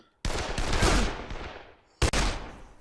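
Two bursts of rapid automatic gunfire from Dead Island, loud and close, the first long and fading away, the second short after a brief pause.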